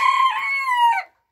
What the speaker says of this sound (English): I couldn't believe it though when I heard Noobs crowing too